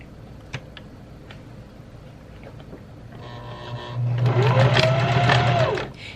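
Starting after scattered faint clicks and handling noises, a sewing machine runs a straight stitch on mesh fabric, its motor whirring in a loud, close burst of about two seconds before it stops.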